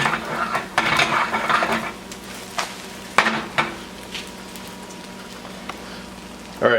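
An omelet egg sizzles softly in a pan while it is flipped, with scattered scraping and clattering knocks of the pan and utensil over a low frying hiss.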